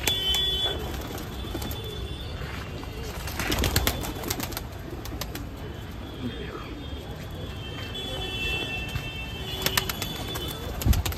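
Pigeons of a red-spotted breed held for sale coo softly in the background, steady and low, while someone talks over them throughout.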